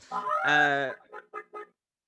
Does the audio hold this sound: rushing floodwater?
no